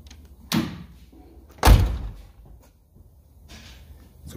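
The door of a 1986 Chevrolet Caprice two-door fitted with shaved push-button handles, heard as a latch click followed by a heavy solid slam of the door closing nearby, then quieter handling, with no talking.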